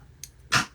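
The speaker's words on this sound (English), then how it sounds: "so if you hear someone snorting and grunting, that is my dog." A dog gives a quick sniff, then a short, loud snort up close.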